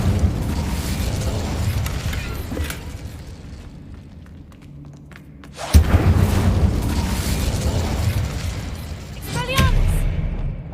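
An Incendio fire spell blasts in Hogwarts Legacy with a sudden loud whooshing burst, following a quieter stretch and set against ongoing combat noise, with a second flare near the end.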